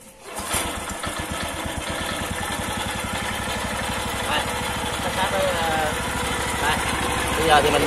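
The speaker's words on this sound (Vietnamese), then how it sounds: "Rồi bây giờ mình sẽ nổ máy mình hoạt động lên cho anh em xem nha." A Japanese-made, custom-built winch engine starts up and settles into a steady, rapid chugging idle, loud and close throughout, with someone talking over it.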